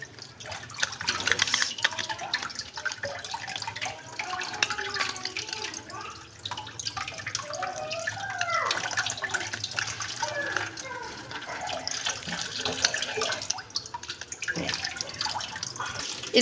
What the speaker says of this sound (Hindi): अब फिर दोबारा इसको पानी से साफ़ करेंगे